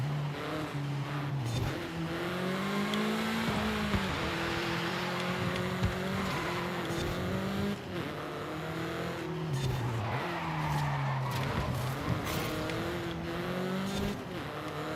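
A race car in the Forza video game revs and shifts through gears, its engine pitch sweeping up and down repeatedly while tyres squeal and skid through corners, loud and continuous.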